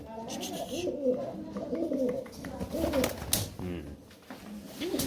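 Large pigeons coo repeatedly in low, throaty rolling calls, close by, with a few faint background noises and brief human sounds mixed in.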